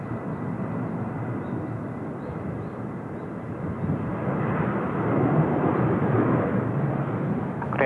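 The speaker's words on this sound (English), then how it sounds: "Here's Cathay 434 service coming in from Hong Kong" A Cathay Pacific airliner on flight 434 from Hong Kong arrives at Seoul Incheon Airport, its engines a broad, steady roar that swells toward the end, heard from a distance without talk.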